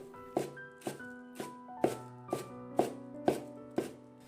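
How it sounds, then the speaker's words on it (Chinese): A kitchen knife chops a bunch of green onions into small pieces on a cutting board, with nine crisp, evenly paced chops close up and no talking. "准备一把小香葱，给它切成葱花。"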